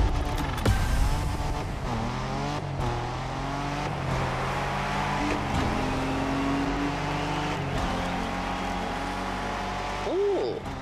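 A Ford Bronco driven in the racing game The Crew Motorfest, its engine droning steadily and loud throughout, with rising and falling revs and a brief swell near the end.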